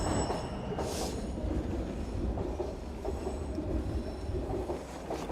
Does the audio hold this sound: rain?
no